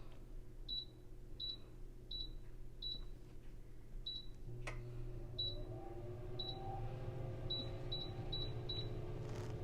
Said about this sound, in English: I'm going to start by just putting in some frozen fries into my air fryer to go with the burgers